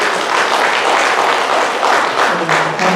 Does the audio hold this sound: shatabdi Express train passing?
no